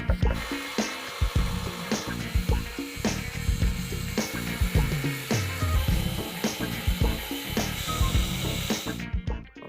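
A cutoff wheel grinds through a metal part, a loud, harsh rasping with repeated strokes and shifting pressure, ending abruptly.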